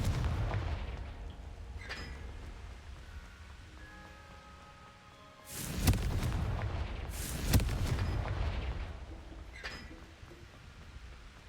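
A fire-casting Confringo spell in the Hogwarts Legacy game, two sharp, loud blasts a couple of seconds apart rising out of a continuous rumbling game ambience.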